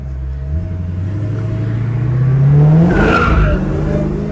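A Dodge Challenger Hellcat accelerates with a rising engine roar, then its tires squeal sharply as it slides sideways, loud and close with no voices.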